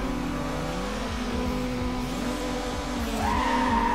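Mazda car in the racing game NFS Underground skids at the race start, tires squealing under a steady revving engine that climbs in pitch near the end, loud and continuous with no talk.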